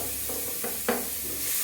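Thinly sliced onion sautéing with ginger and green chili in a pan, a low steady sizzle with a few soft stirring scrapes, one slightly louder scrape near the end.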